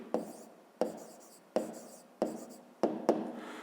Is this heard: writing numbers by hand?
yes